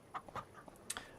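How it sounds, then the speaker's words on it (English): Chickens on a Farming Simulator 25 farm let out a handful of short, quiet clucks in an irregular patter, faint and slightly distant, with no talking. "We have chickens"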